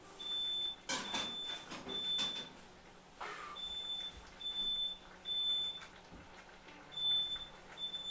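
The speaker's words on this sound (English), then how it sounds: "so the fire alarm's going off" A kitchen smoke alarm sounds in repeated high, piercing beeps in bursts across the clip. Clattering cooking noises from the stove come and go underneath while sweet potato curry and naan are being made.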